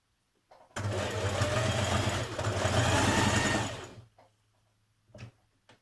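A sewing machine top stitches lounge trousers in one close, loud burst of about three seconds of fast whirring, followed by quiet with a few faint clicks.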